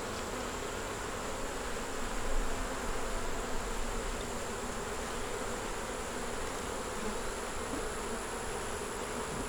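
Honeybees buzz in a dense, continuous drone from an open hive that holds a queen, eggs, brood and stores, the hum steady and close with no talking.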